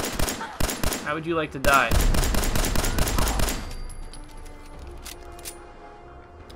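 Rapid pistol shots from the Ares V in a modded Fallout 4 fire in a quick burst of sharp cracks, loud and close. A voice speaks over the first shots, then fainter game ambience follows.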